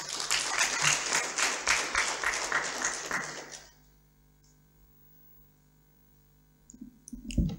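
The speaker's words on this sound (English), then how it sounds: "please, let's clap for him as he comes up." An audience claps at a training event, with dense applause for about three and a half seconds that then cuts off, leaving a quiet room with a few faint clicks.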